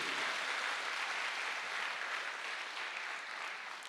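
An audience at a health awareness seminar breaks into loud, sustained applause, a dense wash of clapping that holds steady throughout and fades only slightly near the end, with no voices over it.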